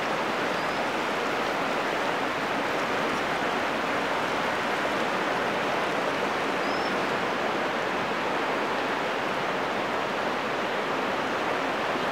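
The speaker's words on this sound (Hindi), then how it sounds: "बहुत सारा पानी सीधे निकल रहा है, बहुत सारा पानी" A large volume of water from the Ganga river gushes out in a steady, loud, broadband roar that holds unbroken for the whole stretch, with no voices over it.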